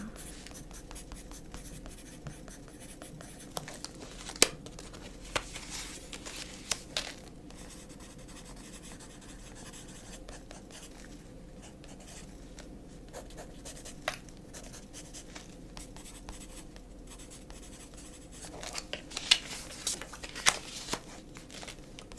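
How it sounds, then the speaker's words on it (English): A pen scratches steadily across paper cards in close, quiet strokes, with a few sharper taps and rustles of card handling in a soft, intimate setting. "have 3 of these cards, so I'll write that on here for you."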